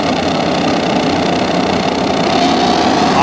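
Superbike engines on the starting grid at Sonoma Raceway, a loud, dense roar that holds steady and climbs slightly in pitch toward the end as revs build, with no voices.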